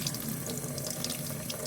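Cold water streams steadily from a tap, a close, continuous splashing rush that runs unbroken the whole time with no voices.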